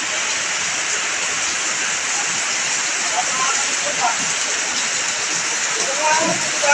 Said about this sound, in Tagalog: Saglit lang umulan. Ang lakas ng ulan.